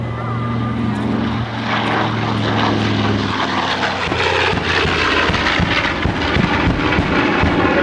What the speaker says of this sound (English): Gives you a pretty good look at the Bombay as the B-25 pulls up and away.